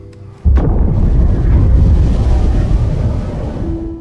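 A sudden loud blast erupts after a moment of low rumble as a World War II ship explodes, then a heavy roaring, rumbling wash lingers and slowly fades.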